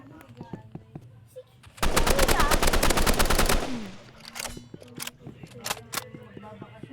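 Burst of rapid automatic gunfire from a shooter video game in a training area, loud and dense for about two seconds mid-clip, with a person talking before and after amid quieter game sounds and scattered single shots.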